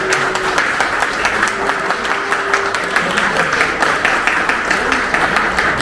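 A crowd applauds presidential candidate Hwang Kyo-ahn at a party branch visit in Incheon, with steady, dense clapping that stays loud and even throughout, and a brief tone underneath.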